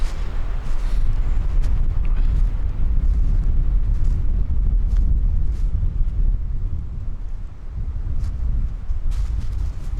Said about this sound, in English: She's windy